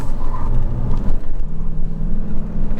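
Chevrolet Silverado pickup truck driving a curvy road, heard from inside: a steady low engine drone and road rumble with slight rises in pitch, continuous and fairly loud throughout.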